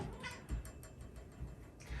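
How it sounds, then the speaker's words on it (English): A cat meows a few times at close range beside a Gottlieb Genie pinball machine, short soft calls over a low room hum with no talk. "this is Loxley, the pinball cat."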